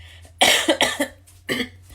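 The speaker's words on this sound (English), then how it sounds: "I keep coughing a lot today" A few sharp coughs, a burst of two or three close together and then another single cough after a short pause, loud and close.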